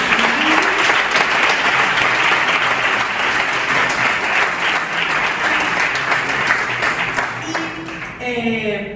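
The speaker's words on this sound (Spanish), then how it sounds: "un aplauso para ellos" Loud, sustained applause from an audience at a multiple sclerosis awareness conference, dense and steady before thinning toward the end as a voice emerges.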